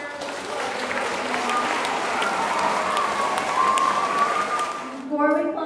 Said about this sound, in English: Give everybody a round of